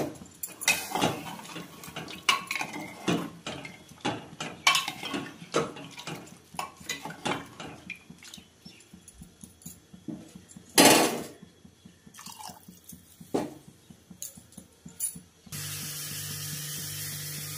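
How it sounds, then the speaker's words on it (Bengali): A pressure cooker lid is set on and locked over a pot of mutton soup, producing a run of close metallic clicks, ratcheting taps and clatters, followed by a steady hum at the end. "এখন আমি ঢাকনা দিয়ে দিলাম প্রেসার কুকারের।"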